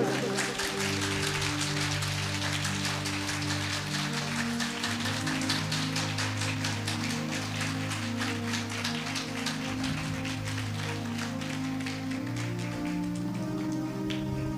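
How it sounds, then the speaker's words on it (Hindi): A church congregation claps loudly and continuously for the Lord, dense rapid applause over sustained music from instruments throughout. "आइए जोर से प्रभु के लिए ताली बजाएं।"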